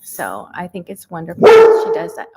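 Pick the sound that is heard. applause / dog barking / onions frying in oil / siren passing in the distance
dog barking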